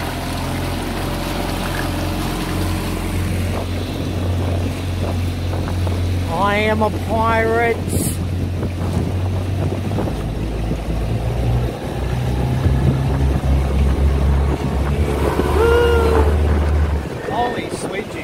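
Motorboat engine drones steadily as the boat is put into forward and accelerates, with wind buffeting the microphone and someone talking over the engine throughout.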